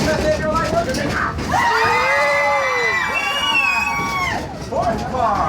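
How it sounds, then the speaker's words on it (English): Passengers in the fourth car of a train ride yell, whoop and cheer together in a loud, sustained crowd roar with high shrieks, fading briefly before another burst of cheering. "throw your hands in the air and yell and scream and holler"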